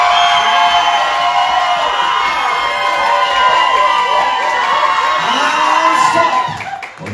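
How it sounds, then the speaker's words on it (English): A live drag show audience in a finale lip sync vote roars with sustained cheering, whoops and shouts, loud and dense throughout before tapering off at the end. "So only cheer for who you want to see in the final lip sync"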